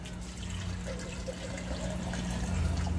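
Water from a two-litre supply pours steadily into a kitchen blender, a continuous close liquid rush with no talk over it.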